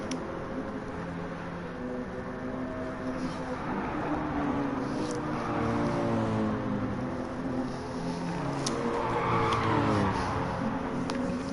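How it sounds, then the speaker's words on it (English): Race car engines and tyres scrabbling around a downhill corner near the end of a lap, a sustained loud whine with shifting pitched tones, continuous and alone without voices. "There's tyres from Kenny's car squealing in protest as they come around one of the penultimate corners down the hill"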